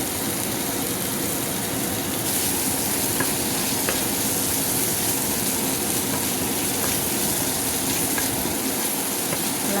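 Fish fries in a pan of hot oil, giving a continuous, even sizzle with a hissing, rain-like texture, a few faint pops and clicks breaking through now and then, close and steady throughout with no talking.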